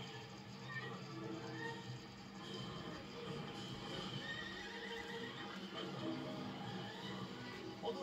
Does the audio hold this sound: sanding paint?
no